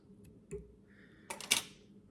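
Old scissors snip through fly tying material for a mop fly, a few quiet, crisp clicks and a louder double snip near the end against near silence.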